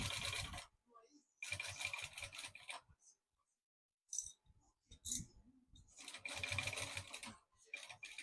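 A sewing machine stitches a small maternity organiser bag in loud, close bursts of rapid mechanical clatter, pausing briefly and then running again in backstitch, with quiet gaps between the runs.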